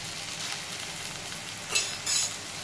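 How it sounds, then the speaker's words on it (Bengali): Spices with coriander powder hiss in a pan as they are sautéed, a steady close sizzle broken by two brief scraping stirs near the end. "এটাকে একটুখানি কষাবো"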